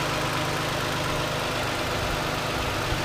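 A 2014 Toyota Sienna minivan's engine idles steadily under the open hood, a constant mid-low hum with a faint tick, close and alone with no talk.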